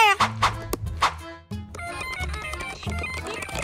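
A battery-powered toy guitar plays an electronic telephone-ringtone melody in bright, repeated notes, close by, with a short pause partway through before the tune continues.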